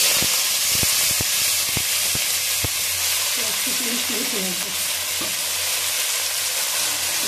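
Steady, dense sizzle of mustard greens frying in hot oil with a chili, loud and close, with a few sharp clicks of utensils early on.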